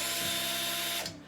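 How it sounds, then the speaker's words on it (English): An electric driver fitted with a bulb planter auger spins up in a garden, a steady mechanical whir with a tonal hum that winds down after about a second, loud and close with no talk. "And now you can drill each hole out."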